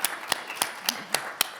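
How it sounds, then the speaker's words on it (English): A few isolated claps ring out from an audience at an activism conference talk, about five or six sharp, evenly spaced hand claps, fairly quiet and distant, with no one speaking over them. "I guess what I said did warrant a clap"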